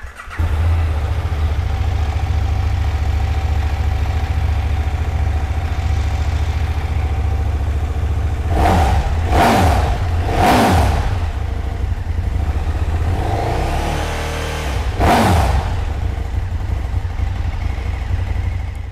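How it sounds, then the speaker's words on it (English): KTM 1290 Super Duke GT sports touring motorcycle idling with a steady low rumble, then blipped through several sharp revs in quick succession, a pause, and one more rev before settling back to idle. "So let's fire this one up and have a listen."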